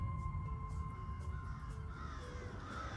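Crows caw over a steady low rumble and a held tonal drone, with short calls repeating at a moderate distance and no talking.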